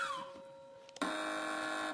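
A loud electronic quiz show buzzer on a TV panel show sounds abruptly midway and holds steady, a harsh tonal blare following a fading tone.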